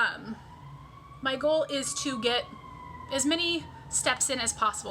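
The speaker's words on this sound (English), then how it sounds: "Sorry if you can hear the sirens outside." Sirens wail outside, a faint, steady wavering tone that carries on in the background while a person talks close by over it.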